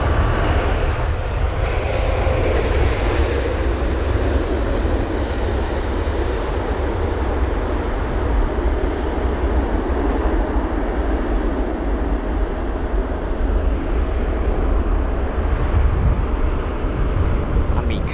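A Boeing 787 lands at London Heathrow in windy conditions, a steady loud broadband jet roar with heavy low rumble and wind buffeting that holds constant throughout, no voices over it.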